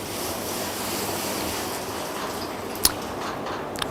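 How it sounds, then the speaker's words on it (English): A Hobart commercial dishwasher drains water with a steady, dense rushing wash of sound that holds evenly throughout, broken only by a brief sharp click near the end. "it's draining some water out, and then it will rinse."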